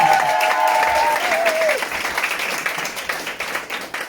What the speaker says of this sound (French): ma femme qui est juste là, d'ailleurs, applaudissez-la!